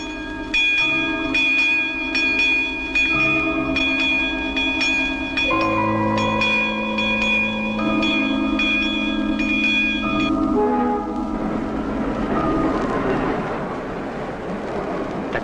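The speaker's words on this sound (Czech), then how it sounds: "ten signál si vlak zapíná sám. Za několik vteřin na přejezdu." A train approaching and passing a railway level crossing, with sustained horn or whistle tones and a crossing bell ringing steadily before giving way to broad rumbling rail noise as it goes by, loud and close, no talk.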